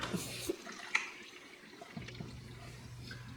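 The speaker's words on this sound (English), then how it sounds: "this is pulling in some water" A Fluval 407 canister filter on a 55-gallon fish tank draws in water, a soft gurgling, trickling flow with a few small drips and bubbles, quiet and close with a low hum underneath.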